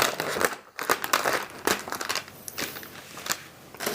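A plastic seal on a cheese and imitation crab tteokbokki package is cut open with a small Korean cutting tool, giving close, crisp crinkling and crackling of plastic in quick irregular bursts.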